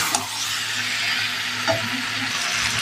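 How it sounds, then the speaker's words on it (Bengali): Fried potato and cauliflower stirred in a spice paste in oil for a Bengali rohu fish curry, a dense, continuous loud sizzle with occasional spatula scrapes, close up and without speech. "তো মশলার সাথে আলু ফুলকপি ভালো করে কষে নেব।"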